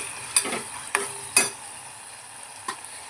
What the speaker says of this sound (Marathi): थोडीशी अद्रक लसूणची पेस्ट ॲड करूया भाजून घ्यायची ती पण व्यवस्थित